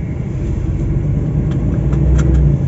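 A truck driving on a wet, foggy road near Trindade do Sul, accelerating, with a steady low engine rumble and road noise close up and no talk.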